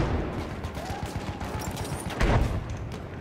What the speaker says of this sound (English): They're shooting outside.